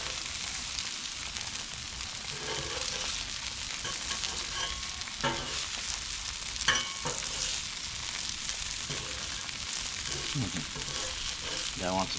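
Hash browns sizzle on a Blackstone griddle in a steady, close, broadband crackle that holds for the full stretch, with brief scraping and spatula clinks on the flat-top, and no talking.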